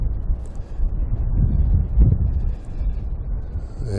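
Strong gusty wind buffeting an outdoor microphone on an overcast day, a steady low rumble swelling and easing in gusts, with no talking.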